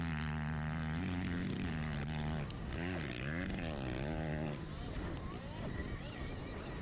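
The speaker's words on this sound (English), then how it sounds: "if his KX450 was sounding like that through that field wide open" A Kawasaki KX450 four-stroke dirt bike runs wide open across a field during a race, its engine droning loud and steady with rising and falling pitch, under wind rumble.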